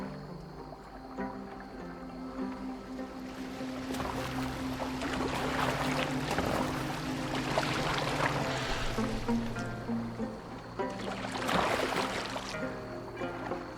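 A boat glides across water in Assassin's Creed Valhalla, with steady splashing and rushing along the hull and a low engine-like drone beneath. The sound stays continuous and moderately loud, with stronger surges near the middle and end and no voices.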